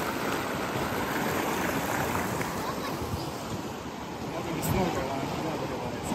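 A river rushes past, swollen by water released from a dam upstream, a steady broad wash of flowing water with faint voices in the background.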